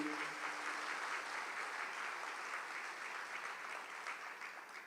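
A church congregation claps their hands in praise during a prayer service, steady sustained applause from many people throughout, slowly easing off toward the end, with no voices standing out.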